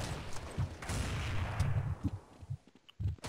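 Rapid gunfire bursts from the video game Counter-Strike 1.6, a dense run of close shots for about two seconds followed by a few scattered single reports, loud and alone.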